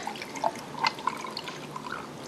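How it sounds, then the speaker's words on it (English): Pineapple juice is poured into a cocktail glass to top off a pink summer drink, giving soft, uneven liquid trickles and a few small splashes at close range. "then I am going to top that with this pineapple juice."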